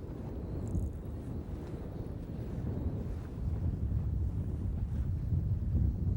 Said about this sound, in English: Oh, I'll tell you, we're getting some wind.